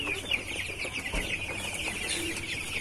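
Chickens on a poultry farm of about five hundred birds cluck and chatter continuously at close range, overlapping calls forming a busy, steady flock noise with no talk.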